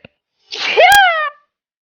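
A single sharp human sneeze, close and loud, preceded by a short inhale and ending abruptly, with silence around it.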